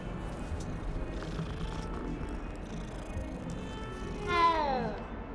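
A cat purrs and then gives a rising meow in the Hogwarts Legacy video game. The meow is loud and close, heard over a steady bed of game ambience, with a low purr running underneath.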